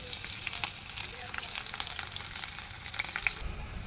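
Chopped green chilies fry in hot oil in a wok, a close, bright continuous sizzle with crackly spits that cuts out abruptly just before the end.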